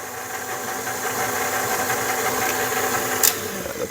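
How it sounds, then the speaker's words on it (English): A KitchenAid stand mixer beats eggs and vanilla into sugar and butter, giving a steady, even motor hum close by with one brief clink near the end, and no speech. "we're going to mix the eggs and the vanilla in with the sugar and the butter"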